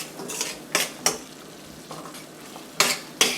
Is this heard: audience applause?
no